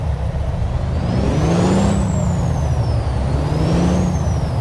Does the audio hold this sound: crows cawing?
no